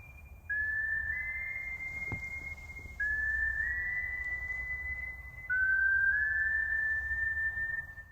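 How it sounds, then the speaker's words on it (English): Eerie whistling in three long, sustained high notes, each sliding slightly upward, with faint low background hum. "In the beginning of the video, there's this eerie whistling sound."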